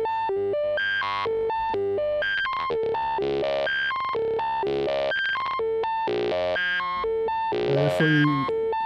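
A Serge NTO oscillator played as a sequence of stepped synth tones with added harmonics, each pitch held briefly before jumping to the next, bright and buzzy, ending in a swept, warbling flourish.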